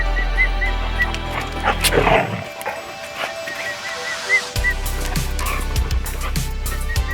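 Puppies barking and yipping in short, excited bursts, close by, with a noisy outdoor background that cuts in and out.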